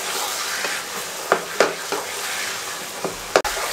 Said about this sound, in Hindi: थोड़ी सी फ्लेम को हाई कर लें, 1 मिनट हाई फ्लेम पे इसको अच्छे तरीके से भून लें